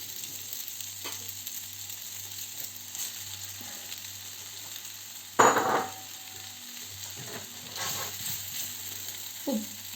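Pak choy frying in a hot pan, a steady sizzle throughout with a sharp hiss burst as it hits or is stirred midway, plus occasional scraping and stirring sounds close by.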